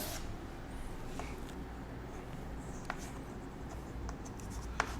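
Writing out division rules produces faint, steady scratching strokes, close up and quiet, with a few sharper taps scattered through.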